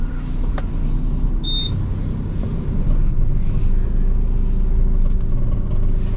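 A manual car pulls away on the clutch alone, with no throttle, while turning right: a close, steady low engine rumble holds even throughout with no revving and no talk.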